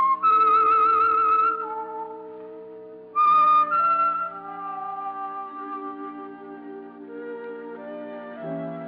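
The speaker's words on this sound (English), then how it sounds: "That whistle is your signal for the Signal Oil program, The Whistler." A whistled theme signal for The Whistler radio program, a clear solo melody of sustained pitched notes with a brief pause and resumption, played alone without speech.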